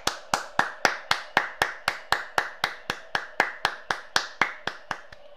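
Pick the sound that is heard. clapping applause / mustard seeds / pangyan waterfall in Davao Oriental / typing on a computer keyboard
clapping applause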